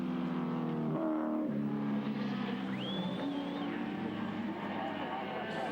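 Touring cars race past at Bathurst, their engines roaring loud as the pitch shifts through gear changes and a sweeping pass. Over the noise, an excited commentator keeps talking.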